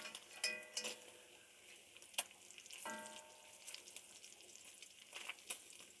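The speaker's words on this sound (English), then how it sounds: "I'm going ahead and cooking this bacon in the same pot that I'm" Bacon frying in a cooking pot at home, a steady close sizzle and crackle with scattered sharp pops and a few clinks of a utensil against the pot.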